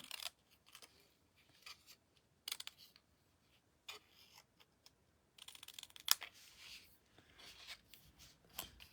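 Scissors cut paper for a handmade gift tag, giving quiet, close snips in short irregular bursts separated by brief pauses.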